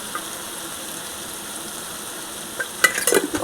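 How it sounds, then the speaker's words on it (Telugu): Chili powder and turmeric frying slowly in oil for a brinjal cashew curry, a steady soft sizzle with a few sharp spatula scrapes and pops toward the end. "ఇప్పుడు ఇది నిదానంగా వేయించాలండి"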